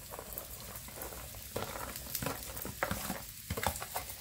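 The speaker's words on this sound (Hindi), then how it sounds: "तेल गर्म हो गया है। अब इसमें ये मैं बारीक कटी हुई गाजरें डालती हूँ।" Finely chopped carrots hit hot oil with a soft, crackling patter, a fairly quiet sizzle that grows busier and more spattery over a few seconds. It sounds close by, and no one talks.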